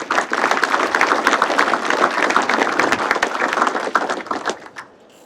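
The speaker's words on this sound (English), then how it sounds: "Please give them a round of applause." Audience applause for event sponsors at a State of the City address: dense clapping from a roomful of people, steady for about four seconds before tapering off and fading out.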